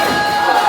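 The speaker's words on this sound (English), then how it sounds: "Brian pumping up the crowd, getting the AWF Galaxy on their feet" Wrestling crowd cheering at an AWF Galaxy show, a short loud burst of massed shouting and roaring with no clear break.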